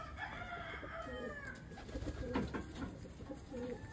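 Soft, low cooing from a pigeon kept by a fancier, a few muffled throaty calls close by over faint background chirps and hum.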